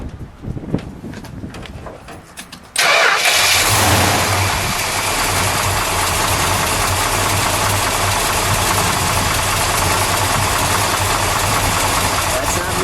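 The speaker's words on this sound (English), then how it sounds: "So let's fire it, shall we? And then we're gonna let it idle for a second." A 1970 Dodge Super Bee's 440 Six Pack V8 cranks and roars to life after a few seconds of starter noise, then settles into a steady, loud, throaty idle.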